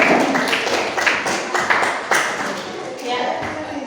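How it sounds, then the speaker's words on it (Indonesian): A class claps for group 3 after their presentation, with steady, dense applause from many hands throughout and voices mixed in. "Ya, aplaus dulu untuk kelompok 3."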